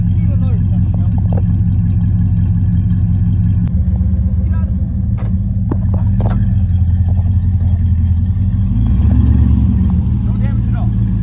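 A second-generation Ram 1500 pickup truck driving over rough off-road fire and hunting trails, its engine rumbling steadily and close with bumps and rattles, and the engine rising briefly near the end.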